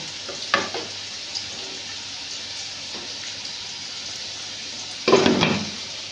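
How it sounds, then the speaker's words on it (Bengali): Potatoes frying in hot oil give a faint steady sizzle throughout, broken by two louder bursts of stirring or scraping near the start and near the end; nobody speaks. "দেখুন আমার কিন্তু আলুগুলো ভাজা হয়ে গেছে"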